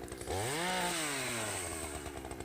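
A TimberPro chainsaw with a freshly sharpened chain cuts through logs, its engine revving up loud and close, then holding a high, steady whine for about two seconds.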